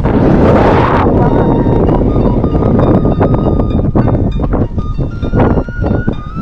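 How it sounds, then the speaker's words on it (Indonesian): Strong wind buffets the microphone on a hilltop above the Panyaweuyan rice terraces in Majalengka, a loud, continuous roaring rumble with gusty surges and fluttering bursts. "Anginnya cukup kencang ya"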